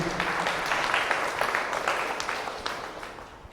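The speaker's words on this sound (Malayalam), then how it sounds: "കൈയടിച്ച് കർത്താവിന് നന്ദി പറയാം" A crowd at a Christian retreat applauds with dense, continuous clapping that fades slowly toward the end, with no voices over it.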